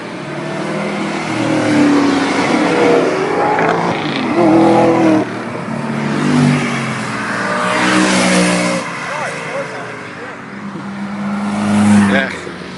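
An Audi RS4 at an exotic car show rumbles past with its exhaust swelling in loud revving surges, nearby voices talking over it.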